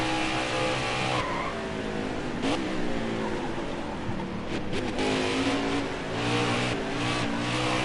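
A NASCAR race car engine on a flying practice lap in NASCAR Heat 4 drones loud and steady at high revs, its pitch shifting through gears and corners with occasional tyre scrub.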